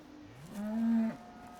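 A single cow in Farming Simulator 2017 lets out one clear, drawn-out moo that rises and falls over about half a second, loud and alone against quiet background.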